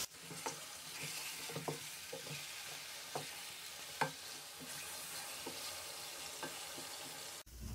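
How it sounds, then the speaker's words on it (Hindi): Chicken frying in a kadai, sizzling steadily while a utensil stirs it with scattered scrapes and clinks, close and alone with no talk. "चिकन को हम कलर आने तक फ्राई करेंगे,"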